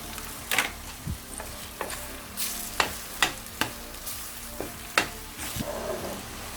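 Egg frying in a pan for veg kothu parotta, a soft steady sizzle punctuated by repeated sharp spatula taps and scrapes at irregular intervals, close and clear.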